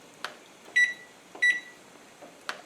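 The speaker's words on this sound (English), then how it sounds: "So let me set my timer here." A kitchen timer is set on the counter while making cheese soup: soft button taps and two short, bright electronic beeps close by, separated by brief quiet gaps, with no talking.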